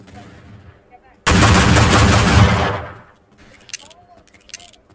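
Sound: gunfire in a wild west video game

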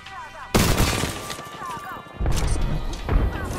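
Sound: grenade explosions in the video game Apex Legends

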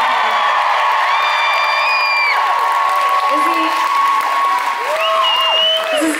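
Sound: concert audience applause and cheering

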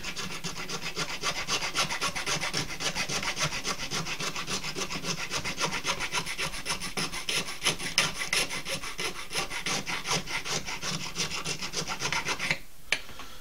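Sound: coarse file filing bone for a fish hook

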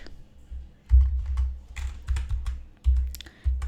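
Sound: typing an AI prompt on a computer keyboard

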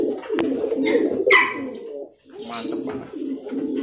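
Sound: pigeon cooing

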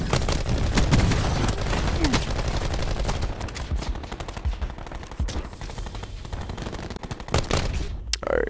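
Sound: gunfire in the video game Black Ops 4

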